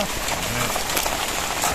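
Steady rain pours down in a dense, continuous hiss that stays loud and even from start to finish, close by, with no voices.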